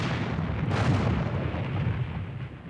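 A single heavy boom from a battleship's big gun, broad and rumbling, swells quickly and then fades into a long low roll with no voices.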